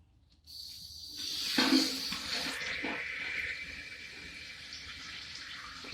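A toilet tank refills after its water supply is turned on, with a steady hiss and rush of water that starts abruptly, swells, then settles into a continuous fill.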